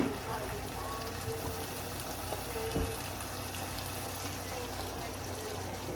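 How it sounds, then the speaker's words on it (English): Water pours steadily into a pot of hamburger curry with vegetables in a home kitchen, a continuous close, even gushing stream lasting throughout. "So I'm just gonna add some water."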